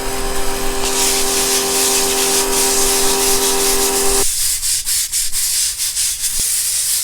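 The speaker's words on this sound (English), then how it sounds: "We are gonna scrub it with the brush." A brush scrubs an ammonia-soaked concrete garage floor during acid staining, making loud rough rubbing strokes; a steady hissing hum runs underneath for the first four seconds and then cuts out, leaving rhythmic scrubbing alone.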